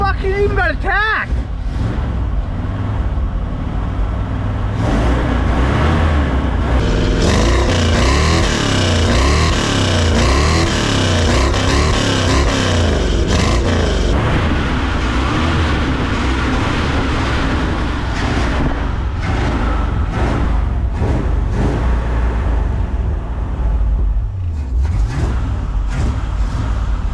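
A revived 1978 Ford F-350 truck engine running up close, a loud continuous rumble with wavering pitch swells in the middle before easing back toward a high idle.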